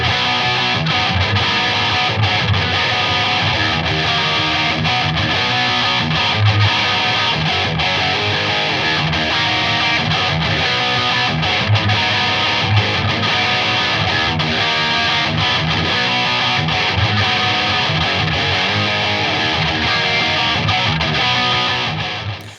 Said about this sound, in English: Right near the end of the digital era, they released the Adaptive Distortion DA-2.